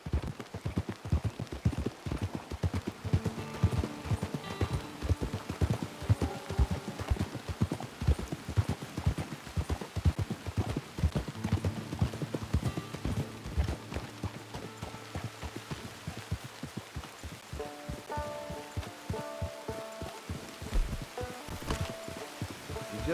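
Horse hooves clip-clop steadily in Red Dead Redemption 2, a continuous close trotting rhythm over a soft patter that sounds like rain, lasting throughout with no talk.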